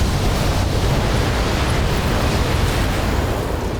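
A weapon strike explosion in the mech video game Battletech, a loud continuous roaring rumble of broadband blast noise that stays even throughout, with no speech over it.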